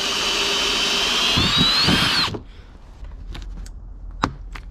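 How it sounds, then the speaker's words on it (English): A power drill whines steadily at high speed for about two seconds while drilling a switch hole during an LED light bar install, then cuts off, leaving a few faint clicks and taps. "Last step is just drilling the hole for the switch."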